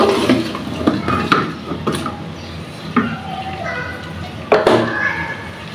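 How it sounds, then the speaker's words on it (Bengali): A spiced pickle mixture stirred and fried in a pan, with clattering spoon scrapes and soft sizzling under someone talking and children's voices nearby. "এখন আমি এটাকে ভালো করে নাড়াচাড়া দিয়ে কষিয়ে নিব"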